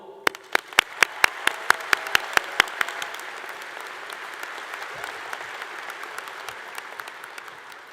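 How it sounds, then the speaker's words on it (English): An audience at the Portland State University College of the Arts 2023 commencement claps, starting with a few sharp, distinct claps. These swell into broad, sustained applause that gradually tapers off. "I applaud you all."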